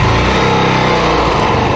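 A 2018 motorcycle engine runs steadily at a loud, even idle, close by with no talking.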